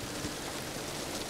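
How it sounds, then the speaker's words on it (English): Steady rain pours through the woods on a foggy morning, a dense, even hiss of drops hitting leaves and ground, close and continuous with no voices. "we're battling fog and rain this morning"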